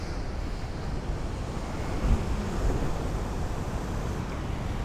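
Ocean waves wash onto a shore in a steady loud rush of surf, mixed with wind buffeting the microphone, with no voices.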